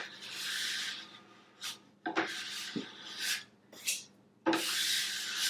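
A scraper drags across a waxed snowboard base in several rasping strokes, each a gritty close-up scrape separated by brief pauses.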